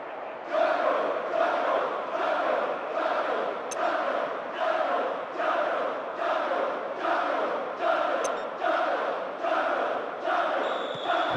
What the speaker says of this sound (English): The crowd giving both manager and players some serious stick.